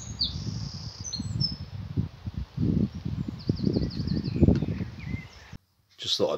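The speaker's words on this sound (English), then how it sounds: "let you listen to the birds for a minute" High, chirping birdsong drifts through a garden in late June, with short repeated trills over a steady bed of low rustling and outdoor noise.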